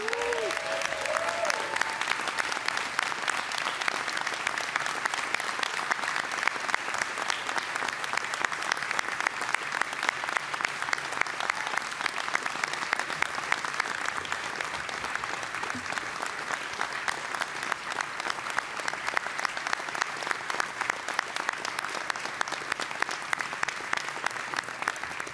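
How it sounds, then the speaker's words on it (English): Sustained audience applause at an awards ceremony and members' meeting, dense and steady for about twenty-five seconds with a faint murmur of crowd voices beneath the clapping. "Would you please join me in giving these two a big round of applause?"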